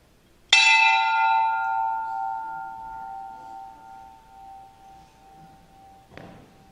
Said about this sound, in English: Petty Officer 2nd Class Charisse Bird, please come forward and ring the bell.